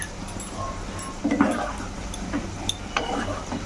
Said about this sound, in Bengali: এরপরে কর্নফ্লাওয়ারের জলটা দিয়ে দিচ্ছি।